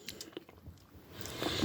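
Someone bites into and chews a milk chocolate bar with hazelnuts and almonds, giving a few soft crunches and clicks up close, followed by a rising rustle or shuffling noise near the end.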